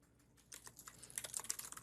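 Rapid, hard typing on a computer keyboard, a dense run of sharp key clicks that starts faintly and grows more forceful, with no talking.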